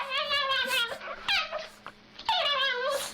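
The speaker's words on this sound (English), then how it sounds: "Trick question, it's a dog." A dog whimpers and whines in a series of high, wavering, close cries with short pauses between them, and no talking.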